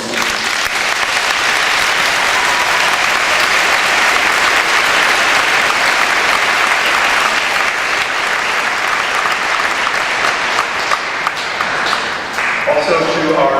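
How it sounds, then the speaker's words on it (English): Sustained applause from a large graduation audience at a 2013 high school ceremony, dense and steady throughout, fading slightly near the end. "Let's have a round of applause for these."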